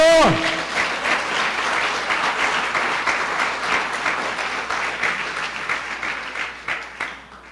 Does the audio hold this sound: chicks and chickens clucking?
no